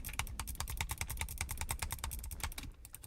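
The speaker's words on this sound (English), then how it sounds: "I'm butterfly clicking so hard right now" Rapid butterfly clicking on a computer mouse while building a redstone calculator in Minecraft, a dense fast run of sharp close clicks lasting almost the whole span before thinning out.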